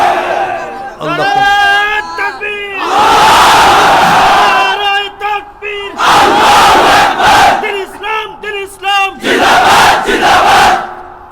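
Large sermon crowd answers a preacher's call with loud, rhythmic takbir chants of Allahu Akbar, several swelling bursts of massed voices separated by brief gaps, with a single voice leading before the crowd joins.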